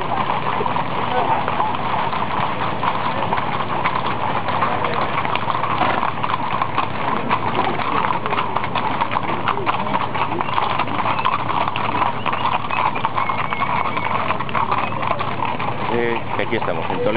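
Horses' hooves clip-clop steadily on pavement during a street parade in Toledo, Spain, a dense continuous clatter from many animals close by, with crowd noise and voices mixed in.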